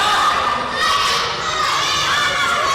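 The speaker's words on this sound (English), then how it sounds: "Crowd really showing support for Evelyn." Crowd of children and adults cheering and shouting steadily throughout at a youth ninja obstacle competition, a loud continuous roar of excited voices with no pauses.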